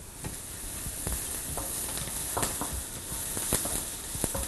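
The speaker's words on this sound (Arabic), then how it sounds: "وادي البصل شغال زي الفل عشان على العين حاميه" Onions fry in a hot pot for a sausage tagine, giving a continuous dense sizzle with scattered crackles and pops, close and steady, with no voices.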